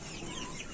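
Backyard flock of about forty egg-laying hens let out in the morning, soft clucking heard faintly and briefly against a noisy outdoor background.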